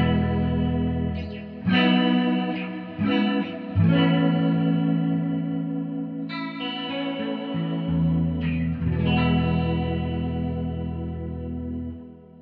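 Electric guitar on the neck pickup run through a 30-year-old Rocktek CHR-01 chorus pedal, several ringing chords struck in a loose strummed pattern with warbling chorus shimmer and long sustain, close and steady, no talking.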